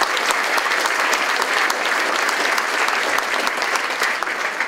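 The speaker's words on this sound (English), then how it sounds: "We can give them a round of applause." Warm audience applause for guests at a talk on Kahlil Gibran's The Prophet, a dense, even clapping that holds loud and steady for nearly five seconds.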